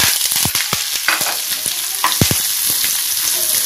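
Onions go into hot oil in a pan for a fenugreek leaf stir-fry: a loud, close sizzle is broken by quick spatula clacks and scrapes, several in fast succession.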